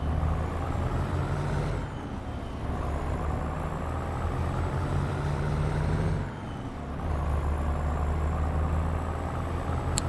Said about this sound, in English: I love to stall the truck.